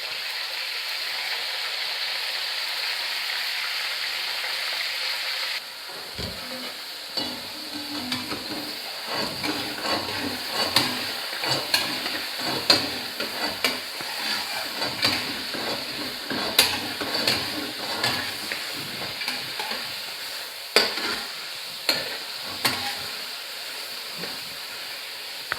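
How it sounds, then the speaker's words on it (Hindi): Beef pieces hit hot oil in a pot for Peshawari Shinwari karahi, giving a steady sizzling hiss with repeated clinks and scrapes of stirring against the pan, close and moderately loud, and no one talking. "गोश्त मैंने डाल दिया।"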